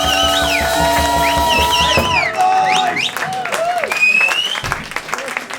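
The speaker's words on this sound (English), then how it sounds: "One applause, come on, boys!" Audience applause and cheering at a band's video premiere concert, with crowd noise beginning beneath lingering sustained instrument tones that cut off, followed by scattered clapping and whoops.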